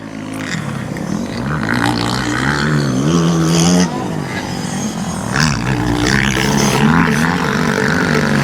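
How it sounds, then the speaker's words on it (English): A kid rides a small four-wheeler around a motocross beginner track, the small engine buzzing and revving up and down close by, its pitch rising and falling as it accelerates and eases off, with other motor noise mixed in. "Got a kid out there on a small four-wheeler."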